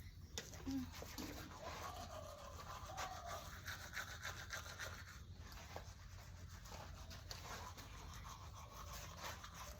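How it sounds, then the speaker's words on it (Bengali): Someone brushes their teeth with a toothbrush in the morning, giving a steady, close scrubbing rub that continues through the clip while a voice speaks over it. "এরকম করে দাঁত ব্রাশ করবো সকালবেলা করে সবাই"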